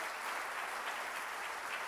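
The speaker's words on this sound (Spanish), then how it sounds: "Déles ofrenda de palmas al Señor" A church congregation applauds during a Friday worship service, a dense, steady wash of many hands clapping that holds for the whole two seconds at moderate distance, with no voices above it.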